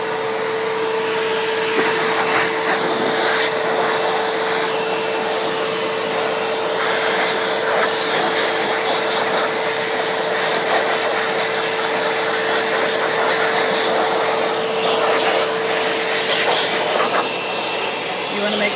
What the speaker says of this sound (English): we're going to go ahead and turn the dryer on, because this is not a heated dryer